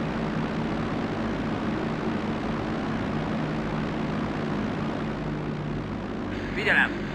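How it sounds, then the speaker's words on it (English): Simulated aircraft engine of a Fiat CR-42 Falco biplane taxiing in the IL-2 Sturmovik flight game, a steady droning hum holding at even loudness, with a short brighter burst near the end. "where is the aircraft now? It's taxiing from somewhere,"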